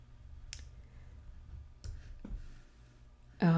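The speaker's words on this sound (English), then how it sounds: "I do lots of little clicks" A few small, sharp mouse clicks while working in Pixlr, sparse and quiet, spaced unevenly over a low background hum, with one louder burst at the end.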